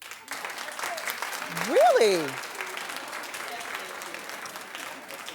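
A studio audience at a daytime talk show claps steadily throughout, swelling briefly in the middle, while someone speaks over the applause.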